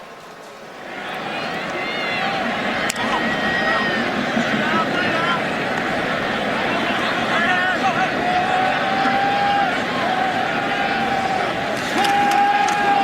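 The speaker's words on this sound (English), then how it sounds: "a round of applause for Armando Allen, who returns to the field for the Irish" A college football stadium crowd at Notre Dame against Stanford roars steadily as Armando Allen returns to the field, a broad sustained wash of noise from a distant mass of fans, with a commentator talking over it.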